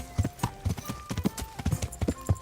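Steady clip-clop of horse hooves in Kingdom Come: Deliverance, a brisk run of sharp hoofbeats close by, with no talking.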